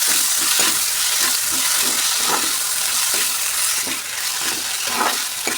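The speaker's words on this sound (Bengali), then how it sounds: "এবার আলুগুলোকে নেড়ে চেড়ে দেবো।" Potatoes fry in a pan with turmeric, salt and a chili-cumin paste, giving a steady loud sizzle broken by repeated scraping stirs of a spatula, close by and without talk.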